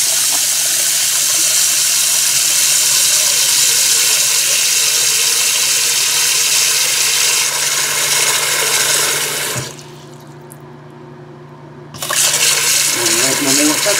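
Water streams steadily from an automatic sensor bathroom sink faucet, a loud continuous rush that cuts off for about two seconds and then resumes, with people talking faintly underneath.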